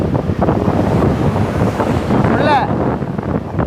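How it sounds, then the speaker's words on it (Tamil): Blustery wind buffets the microphone on a rainy-season beach in Jaffna while sea waves wash in beneath, a loud continuous rumble with a brief whistling squeal partway through. "நாங்கள் பீச்சுக்கு வந்து விட்டோம்"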